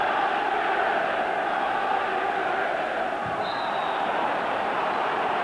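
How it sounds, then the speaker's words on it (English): A capacity football crowd at an Aberdeen v Dundee United Scottish Premier Division match in 1995 makes a steady, distant roar of noise. A faint whistle cuts through briefly near the end. "Capacity crowd here."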